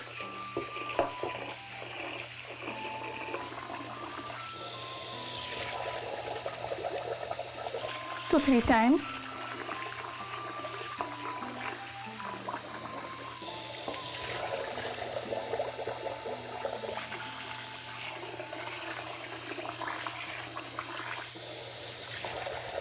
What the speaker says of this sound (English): Wash it with cold water.